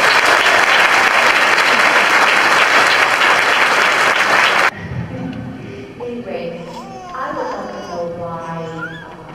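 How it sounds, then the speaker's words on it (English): An audience claps for award-winning students at a utility cooperative's annual members meeting with cash prizes, a dense, loud round of applause lasting about five seconds before it cuts to a quieter room where a person speaks. "let's give all these outstanding students a big round of applause"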